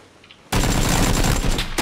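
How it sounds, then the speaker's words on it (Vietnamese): A sudden loud burst of rapid automatic gunfire from the battle royale game PUBG erupts after a quiet half-second and rattles on densely to the end. "Nó bắn mình nữa vậy."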